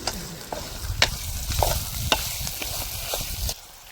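Pigeon pea (tuvar) paste cooks in a pan with a steady low sizzle while a spoon stirs and scrapes it in sharp clinks and knocks every half second or so, close by and without talk.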